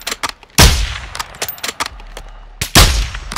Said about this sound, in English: You heard your shot.